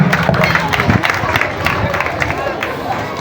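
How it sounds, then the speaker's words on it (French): An audience at a school end-of-year party claps, loud mixed applause blended with crowd noise and babble that stays dense throughout. "Please, can we clap for them?"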